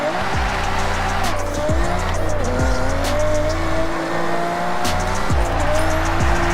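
A racing car in Forza Horizon roars continuously at high revs, engine pitch climbing and dropping through repeated gear shifts, with tires squealing and skidding in short bursts across the run, loud and steady throughout.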